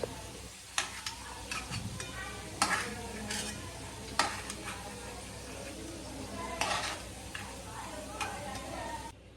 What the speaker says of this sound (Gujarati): સુરણ જો તળાઈને થઈ ગયું તૈયાર છો